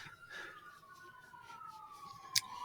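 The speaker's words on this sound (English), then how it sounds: "Sirens, that's awesome." A faint siren wails in the distance, its tone slowly falling, beneath a low background hum with a brief click near the end.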